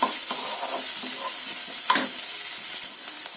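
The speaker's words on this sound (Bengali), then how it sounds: "দেখো সবকিছু বেশ ভাজা ভাজা করে নিয়েছি" Onion, chili and capsicum fry in a pan, a steady loud sizzle broken by several scraping stirs of a spatula, with no talking.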